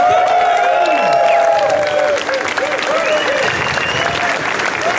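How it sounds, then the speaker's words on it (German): Applause from a crowd at an outdoor lesbian and gay city festival stage, a loud, continuous wash of clapping mixed with festival sounds and tonal background noise, with a brief dip partway through. "Einen herzlichen Applaus für Kevin Kühnert!"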